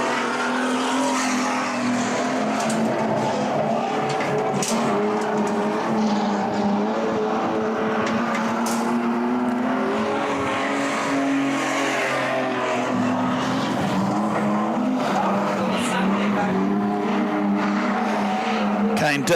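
Street stock race cars lapping a track during official practice, engines droning and swelling steadily as cars pass, a continuous mid-distance roar with a commentator talking over it.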